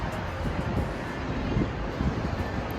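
Wind from a sudden storm in Las Vegas buffets the microphone in a steady, rumbling rush with gusty swells. Nobody speaks.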